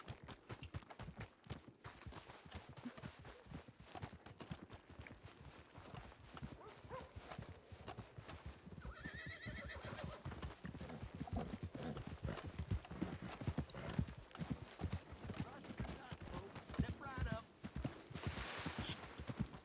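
Video-game horse hooves clip-clopping in a steady, continuous rhythm, with a brief whinny partway through, all at a fairly quiet level.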